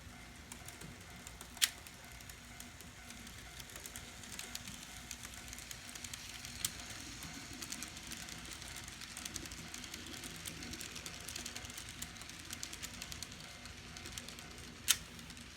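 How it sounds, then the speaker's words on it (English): A rebuilt Con-Cor 4-6-4 J3a Hudson model locomotive hums and clicks along its track at a constant low level, with a soft rapid ticking and a couple of sharper clicks. "And now it's time to run some trains."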